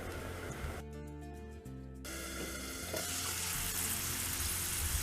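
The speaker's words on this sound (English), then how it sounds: "Now I am adding the second batch for frying right now, immediately covering the pan with a lid." Corn kernels sizzle and fry in a covered pan, a steady crackling hiss that holds throughout, sharpening after a brief clatter early on as a new batch goes in.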